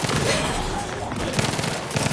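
Sustained gunfire from The Outer Worlds 2 aimed at the player, a dense stream of rapid shots rattling throughout at steady loudness, with a voice faintly underneath.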